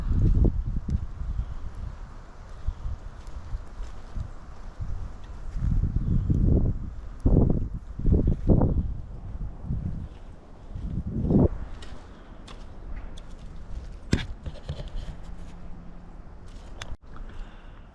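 Gusty February wind buffets the microphone on a farm during pea planting, rising and falling in strong rumbling bursts, with faint rustling and scattered small knocks in the background.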